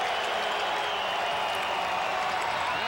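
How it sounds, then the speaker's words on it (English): A capacity stadium crowd at Ivor Wynne urges on the defense during a CFL football game, a continuous roar of cheering and applause from a distance with no clear break. "Capacity crowd at Ivor Wynn, exhorting the defense."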